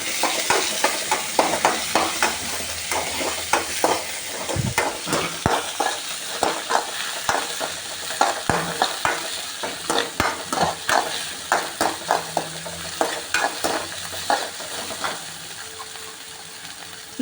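Cumin, cinnamon, cloves, ginger, tomato and onion fry in a pan for a masala, loud and close, with constant sizzling and a quick, rhythmic run of spoon scrapes and clatters.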